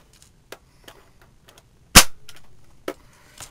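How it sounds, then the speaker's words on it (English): A Well L96 airsoft sniper rifle fires a single sharp, loud crack at close range, the BB passing through a chronograph, with light mechanical clicks and handling noises before and after. "We're just going to shoot one to see if it's either the .20s or the .25s"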